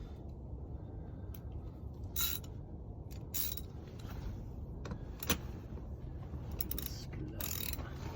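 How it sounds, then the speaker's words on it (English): An eye bolt on an Eskimo Outbreak 250XD ice-fishing shelter's hub system is turned by hand to start its thread, producing faint scattered metallic clicks and scrapes over a steady low hiss of outdoor background noise. "just turn this, it's kind of like an eye bolt on the outside to get that thread started"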